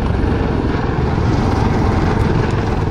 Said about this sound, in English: blade slapping sound that's distinctive of the lynx and the wildcat